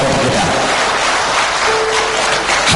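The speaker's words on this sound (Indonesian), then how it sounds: "Mari kita sama-sama memberikan aplaus dan tepuk tangan yang meriah kepada keempat calon wakil wali kota kita" Audience at a deputy mayoral candidates' debate in Ternate gives loud, dense, continuous applause, sustained for the whole stretch with a faint voice underneath.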